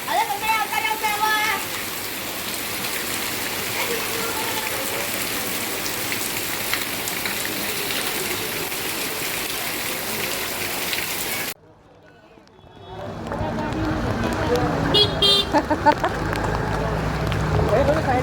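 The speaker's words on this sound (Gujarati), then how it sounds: "વરસાદમાં બહુ બધું પાણી ભરાઈ ગયું" Heavy rain falls on a flooded residential street, giving a steady, loud hiss. The sound briefly cuts out and then resumes, and voices may be faintly present.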